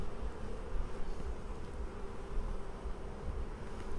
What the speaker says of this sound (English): So the bee is fanning